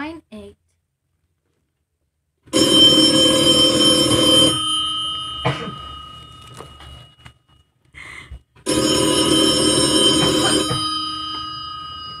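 A telephone bell rings loudly in two long bursts separated by a pause, close and clear, with brief quiet voices between, in a radio drama.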